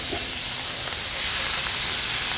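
Capers hitting frothy butter in a hot pan while skate wing cooks set off a steady, close hiss and sizzle that swells slightly midway and holds at an even level throughout.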